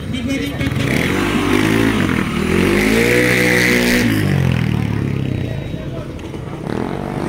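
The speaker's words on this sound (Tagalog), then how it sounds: "marami dito mga motor na ay isasalang mamaya sa sa racing" Motorcycles at a motorace event revving loudly nearby, engine pitch rising and falling in sustained sweeps, with people talking over the roar.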